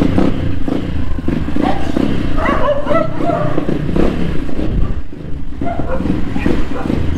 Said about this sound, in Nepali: धेरै दिनपछि यो चलाएको क्या साउन्ड त धेरै साउन्ड आ जस्तो फिल भइरहेछ यार